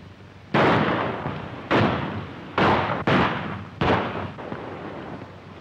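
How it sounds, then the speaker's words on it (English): Five loud, close gunshots ring out one after another at a shooting contest in a 1936 western film, each with a sharp crack followed by a decaying echo. "All right, you shoot first."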